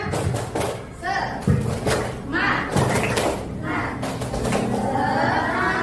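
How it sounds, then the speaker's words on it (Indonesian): Patterned 'tepuk semangat' group clapping by students in a classroom lesson, crisp claps in rhythmic bursts among chanting voices. "tepuk semangat dulu ya"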